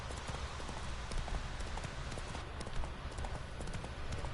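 Hooves of the horse Roach clip-clopping steadily along a road in The Witcher 3, a continuous fairly quick rhythm of hoof beats under a wash of ambient game noise, moderately faint.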